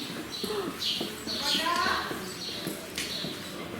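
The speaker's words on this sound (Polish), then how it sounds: "Tutaj są nasze koniki." Horses move about in a stable with faint hoof clops and shuffling, while people talk nearby over the animal sounds.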